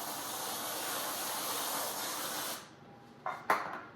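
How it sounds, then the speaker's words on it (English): Whipped cream hisses steadily out of a can onto a breakfast waffle for a couple of seconds, then cuts off, followed by a few short spurts and a soft clatter. "Some whipped cream on top."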